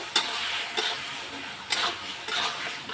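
Salt, turmeric and Kashmiri chilli powder fry in a pan, making a soft sizzle broken by a few sharp scrapes of a spoon against the metal, quiet and close, with nobody speaking.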